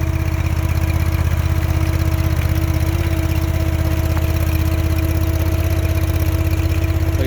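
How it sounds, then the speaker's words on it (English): A Honda engine powering a two-ton stand-on skid steer runs at a steady idle, a constant droning hum with an even pulse throughout and nothing else over it. "This thing weighs 2 tons, powered by a Honda engine."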